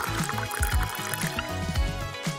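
Clear gelatin mixture is poured into a bowl, a close, gurgling liquid stream with bubbly glugs and splashes that rise and fall in a loose rhythm.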